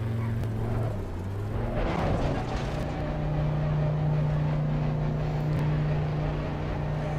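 The engine of an Audi race car in Assetto Corsa Competizione holds a steady, sustained drone with a strong low tone, loud and continuous throughout, with no talking.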